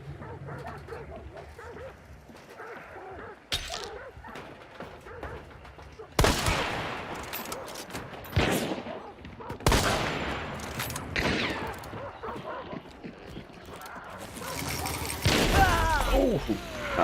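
Video-game gunfire crackles in sharp, loud bursts and volleys spaced several seconds apart, with quieter mechanical clatter and game sounds between the shots.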